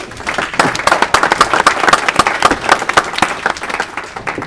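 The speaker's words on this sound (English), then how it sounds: "Let's give our panel a round of applause." A room applauds a STEM soft-skills panel with loud, close, crisp clapping from many hands, individual claps standing out in a lively rhythm that eases slightly toward the end.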